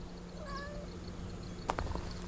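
A cat meows for food beside an outdoor grill where beef hot dogs cook, a few faint, brief calls over steady background hum, followed by a sharper clatter near the end.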